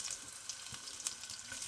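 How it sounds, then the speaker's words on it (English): Tofu frying in coconut oil in a pan, giving a quiet, steady sizzle with faint crackles and small pops throughout, no voices over it. "Oh, it's nice and sizzly in this pan."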